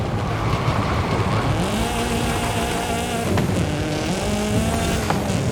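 A race car blasts down a walled mountain touge track in Forza Horizon 5, its engine screaming loud and constant, rising and dropping in pitch through gear changes and corners.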